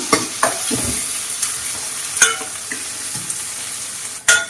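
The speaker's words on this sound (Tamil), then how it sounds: "இப்ப இதுல கொஞ்சம் இஞ்சி பூண்டு சேர்த்துக்கலாம். இஞ்சி பூண்டுடைய பச்சை வாசனை போற வரைக்கும் அதை நல்லா நம்ம வதக்கிக்கலாம்." Ginger garlic paste sautés in a pan for a Chettinad pepper prawn fry, giving a steady sizzle. A spoon scrapes and clinks against the pan a few times, and one scrape near the end is louder.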